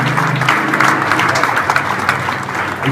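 An evening event audience applauds steadily, a dense close wash of clapping that holds evenly throughout.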